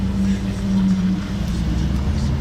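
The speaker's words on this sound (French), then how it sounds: "Je l'ai vu débarquer derrière moi, Ferrari F80." A Ferrari F80 on the streets of Monaco gives a steady, close engine rumble that holds low and even throughout, with no clear rise or fade.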